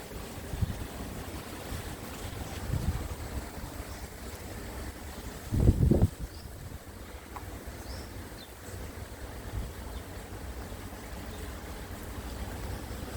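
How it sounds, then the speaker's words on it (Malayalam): Gusty wind after heavy rain in Ajman, a continuous low rushing noise buffeting the microphone with a stronger thump of gust midway. "മഴ ഇപ്പോൾ ഏകദേശം നിന്ന ഒരു മട്ടാണ് കാറ്റ് മാത്രമേ ഉള്ളൂ"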